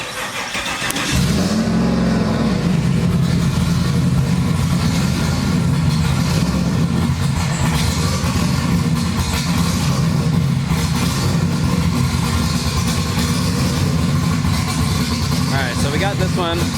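A turbocharged car with a Holley-managed engine starts and then runs at a loud, steady idle close by, with a deep continuous rumble and a few slight rises in revs.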